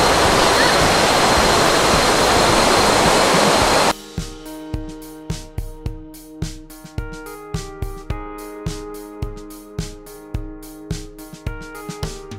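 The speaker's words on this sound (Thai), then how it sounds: "นี่น้ำตกที่ลอซูจังหวัดตากนะคะ" Thi Lo Su waterfall in Tak province, Thailand, roars as a loud, steady broadband rush for about four seconds, then cuts to music with a steady beat.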